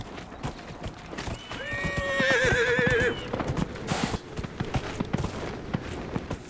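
Horse in Dragon Age: Inquisition neighs loudly in a wavering whinny near the middle, over steady rhythmic hoofbeats of galloping that run throughout at close range.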